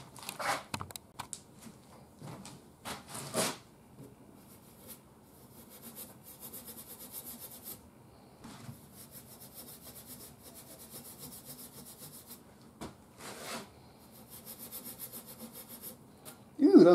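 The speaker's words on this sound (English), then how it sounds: "I do want to polish these brass buttons, though, using steel wool." Steel wool rubs over brass buttons on an Atwater Kent Model 35 radio, making soft scratchy strokes in irregular bursts with quiet gaps between them, close and fairly faint.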